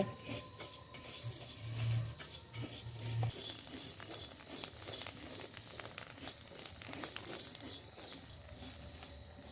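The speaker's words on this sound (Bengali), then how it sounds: "চাল ভেজে নেব" Rice, first moistened with salted water, is dry-fried in a pan, giving a steady crackling and rustling as the grains are stirred and tossed, with occasional scraping and clinks of the utensil.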